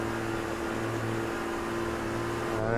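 A diesel race truck engine in the sim Automobilista 2 drones steadily at low revs while rolling toward the pit lane exit, a continuous close hum that swells slightly near the end.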